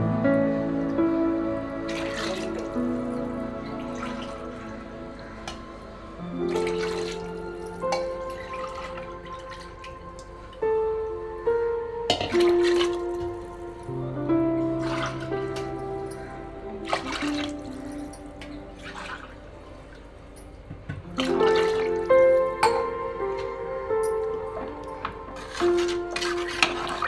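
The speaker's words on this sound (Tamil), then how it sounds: "இப்போ 6 கிளாஸ் ஊற்ற போகிறேன்." Water poured into a pot of rice for mutton biryani, in several separate pours of glassfuls; close splashing and gurgling with changing pitch as the pot fills, pausing between pours, with no talk.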